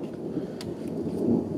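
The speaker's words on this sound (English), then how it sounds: "it's a pretty bad storm coming my way in my neighborhood" Thunder rolls in from an approaching storm over a residential neighborhood, a low rumble swelling and fading with faint rain-like patter, continuous and moderately distant.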